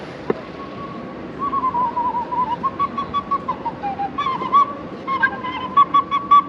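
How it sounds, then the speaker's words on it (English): A man blowing a whistle out on a street in Leeds, giving a wavering melodic tune of short, repeated notes that grow choppier toward the end, fairly close over faint street background. "Lovely blowing on the whistle."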